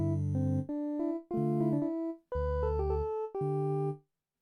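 A Novation Peak/Summit synthesizer patch with a pitch LFO plays alone as several sustained, rich tones, each swelling in and then cut off, the pitch wobbling and stepping between notes.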